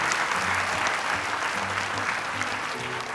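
Studio audience applauding at an Indonesian televised Quran recitation competition, a steady dense wash of clapping that fills the whole stretch at a constant level, with a faint voice briefly under it.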